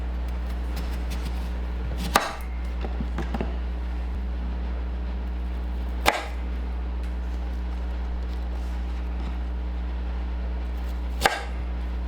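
A knife chops radish into small thin pieces on a board in a home kitchen, three isolated sharp thuds spaced seconds apart over a constant low hum.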